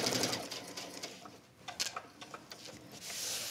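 A sewing machine stitches waxed canvas for an envelope clutch purse, running in bursts of rapid mechanical needle chatter with brief pauses, close and clear.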